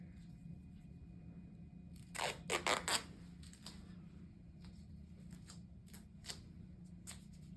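Medical tape is torn and pressed over wound packing in a quiet room, a cluster of crisp ripping and crinkling sounds followed by a few scattered softer clicks and rustles, close and faint.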